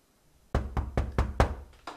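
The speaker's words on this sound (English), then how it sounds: "Someone at the door." A door is rapped with a series of about seven sharp, evenly spaced knocks, loud and close, after a moment of quiet.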